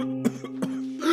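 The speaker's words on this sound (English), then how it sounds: "I began coughing and gasping for air." A few short coughs close by, followed by a strained, breathy intake at the end.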